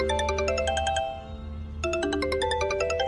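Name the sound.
phone ringtone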